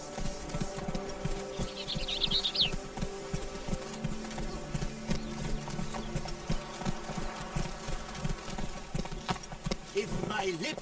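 Hooves of the horse Roach clip-clop in The Witcher 3: Blood and Wine on PS5, a steady rhythmic trot running throughout under game ambience and an insect-like buzz, with a voice speaking over it.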